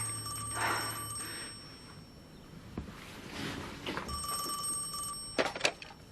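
A telephone bell rings in two distinct bursts of rapid trilling with a pause between, clear and close in a quiet room, with some muffled movement and rustling around it.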